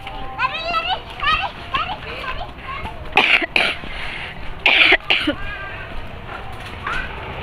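Several sharp coughs break through a person talking, with children's voices and lively chatter around them.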